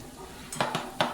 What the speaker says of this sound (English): I'm going to mix that all up.